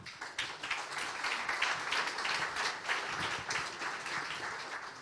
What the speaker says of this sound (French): je vous propose et je vous demande d'applaudir François-Xavier Geland.